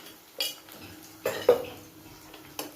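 Fried okra being stirred with salt and chili powder in a pan, a few sparse metallic scrapes and clinks of a spoon against the pan, faint and close, with no talking.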